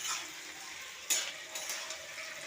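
Chopped garlic, ginger, chili and tomato fry in a pan with a soft, steady sizzle, broken by one sharper hiss as the mixture is stirred, close and fairly quiet.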